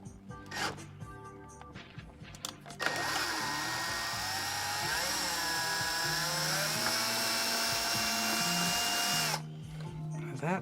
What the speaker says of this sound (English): we're gonna take a 1/4 inch drill bit